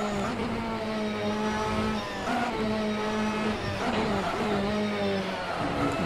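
A high-performance car in Assetto Corsa at full throttle near the rev limiter at about 290 km/h, a loud, steady engine whine climbing in pitch with brief dips at gear changes, sustained and close throughout.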